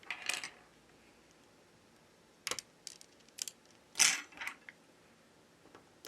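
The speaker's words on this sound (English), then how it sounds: "We remove two screws." Small screws being backed out of a Samsung Galaxy Note 20 Ultra during a charging-fault repair, heard as a few faint, sharp metallic clicks and ticks separated by quiet gaps, with no talking.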